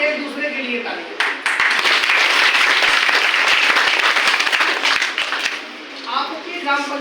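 Villagers at a village council biodiversity committee meeting applaud one another, a loud burst of many hands clapping that swells quickly, holds strong for several seconds, then fades as a voice resumes.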